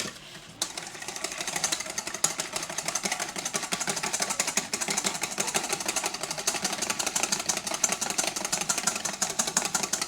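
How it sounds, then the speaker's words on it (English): An electric whisk beats cream or egg whites toward stiff peaks, a steady loud motor whir with a fast rattling buzz that runs unbroken after a brief quiet start. "Now we whisk until this forms stiff peaks"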